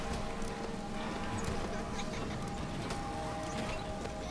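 An electric mechanical horse in the video game Bioshock Infinite clip-clops steadily under a constant hum of game ambience, with no pauses in the rhythm.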